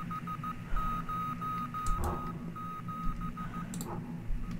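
Morse code beeps from a push button in the space game Adrift: a steady tone around one pitch pulses in short and long dashes, moderately loud over a low ambient hum, with a couple of brief clicks.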